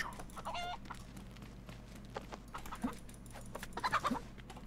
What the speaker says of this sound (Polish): U, kura, patrzcie na to.